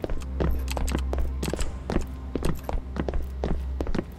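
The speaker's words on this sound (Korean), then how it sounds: "뭐야 방금 발자국 소리?" Quick footsteps in a horror video game come as a rapid run of sharp thuds with an irregular rhythm, fairly close, over a low steady hum and with no speech.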